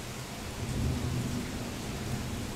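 Thunder rumbles low and steady through an open window, with a broad swell near the start and rain hissing throughout; no voices.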